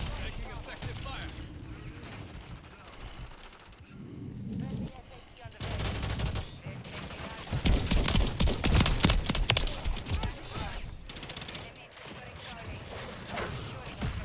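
Gunfire from the Call of Duty Modern Warfare III video game, dense bursts of shots rising to a loud rapid volley midway and then easing off, with talk over parts of it.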